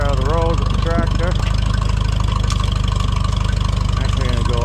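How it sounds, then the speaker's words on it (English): Farmall tractor engine chugging steadily at close range with a rhythmic low thump while pushing brush off a road, a voice talking over it at times. "I'm just going to push all this brush out of the road with the tractor"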